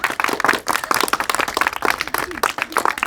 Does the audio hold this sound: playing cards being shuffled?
no